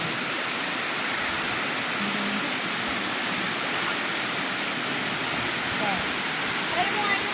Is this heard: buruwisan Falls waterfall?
yes